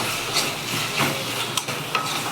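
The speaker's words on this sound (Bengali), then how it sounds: "দেখতেই পাচ্ছেন শাকটা পুরো ভাজা ভাজা হয়ে গেছে।" Red amaranth greens (lal saag) fry in a pan with a steady close sizzle and hiss, broken by a few soft stirring scrapes against the pan.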